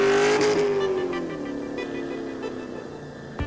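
A Mazda RX-7 drift car at a drift battle, its engine loud and close, revving high then dropping in pitch as it sweeps past, with a brief sharp burst near the end.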